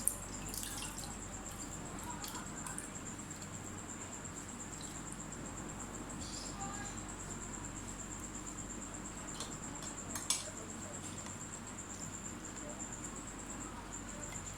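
Washed minced meat sits in a strainer as water drips and trickles out of it, a faint steady patter with a thin background hiss and one sharper drip partway through.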